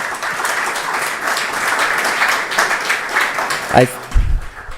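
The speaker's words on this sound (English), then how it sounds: "Let's give another round of applause." A conference audience at the 9th WACCBIP Research Conference plenary session gives a sustained round of applause that begins to fade toward the end, as a few low thumps and a voice come in.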